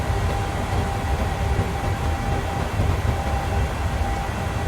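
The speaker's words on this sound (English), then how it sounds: "It's a bit noisy in the cockpit." Constant loud broadband roar in a British Airways Boeing 737 cockpit in flight, steady and unbroken throughout, with no voices.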